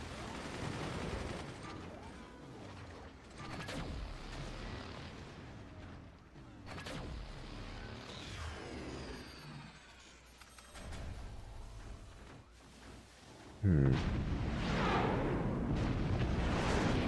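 Howitzer shots and heavy impacts ring out in the strategy game Forts, with repeated booming blasts and rumbling explosions spread across the stretch, and a loud burst near the end.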